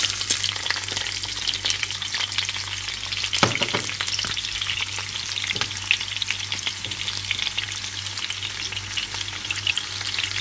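Chopped onion sizzles steadily in hot oil in a frying pan, a continuous close crackle with occasional stirring scrapes and a sharper clack partway through, no voices.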